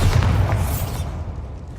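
Bombarda explosion spell in Hogwarts Legacy, a loud deep boom with a rumbling burst at the start that fades into a low decaying tail.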